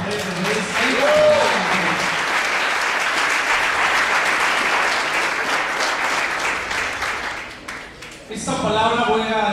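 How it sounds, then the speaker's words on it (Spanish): A church congregation applauds loudly and steadily for several seconds before the clapping fades, with a voice speaking over the crowd at the end. "Dale un fuerte aplauso a Andrés."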